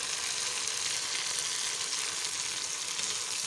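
Potatoes, peas and fenugreek cooking in oil over low heat, a soft, even, continuous hiss of gentle sizzling, close but quiet, with no talking or stirring.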